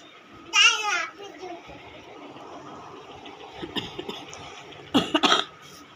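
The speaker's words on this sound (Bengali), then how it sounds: "এত কাশি হচ্ছে, আর প্রচণ্ড ঠান্ডা লেগেছে" A cold and heavy cough come through as two loud bursts of coughing, one near the start and one near the end, with quieter background sounds between them.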